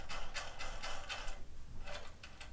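A nut being tightened onto a contactor terminal, a series of quick close metallic ratcheting clicks in short bursts, fairly quiet, with no talk.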